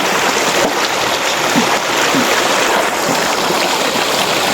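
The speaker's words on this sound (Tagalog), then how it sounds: "medyo malakas-lakas ng agos ng tubig dito" Strong, rushing river water, swollen after a typhoon, flows continuously, a dense steady roar of current with no voices.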